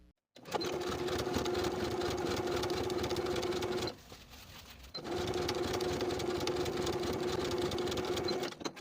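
A sewing machine runs in a fast, even whir while edge stitching along the upper fold of a fabric casing, pausing briefly midway before starting again at the same steady speed.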